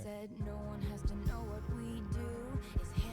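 A song in which strings sustain and swell through the pre-chorus into the chorus, while low, regular heartbeat-like thumps pulse steadily beneath the music.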